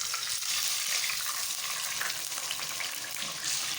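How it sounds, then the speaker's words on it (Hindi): Water hits golden-brown fried onions in a hot pan for zeera tarka rice, giving a loud, steady hiss and crackling sizzle that fills the whole stretch without talk. "तो अगर ये जल ना जाए इसलिए मैं पहले पानी डालूंगी।"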